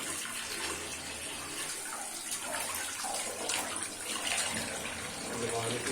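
Water runs steadily from a tap while a goat's head is rinsed for a traditional Pakistani curry, a continuous splashing gush with a faint voice underneath.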